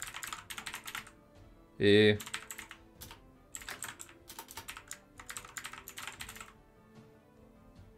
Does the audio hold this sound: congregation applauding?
no